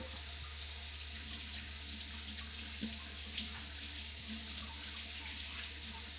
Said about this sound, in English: Make sure that the water will come out of the pipe warm this time.